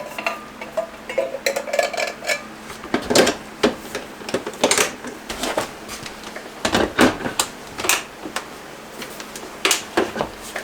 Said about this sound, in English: So corn is going into the blender.